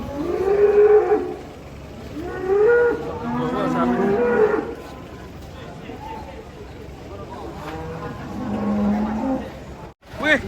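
A black Belgian cow moos repeatedly while being unloaded from a truck, several long, loud, close calls spread across the scene with a crowd talking in the background.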